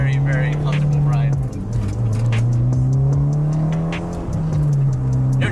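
A Mitsubishi Lancer Evolution X is driven on public streets, its engine humming loud and steady with a brief shift, while someone talks over it.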